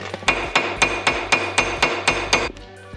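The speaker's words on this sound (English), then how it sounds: "the last thing we need to do on this is punch in the nut in the little indent" A punch is hammered into the indent of an axle nut with about nine sharp, evenly spaced metal strikes, each ringing with a bright metallic tone, close and loud in a quiet garage.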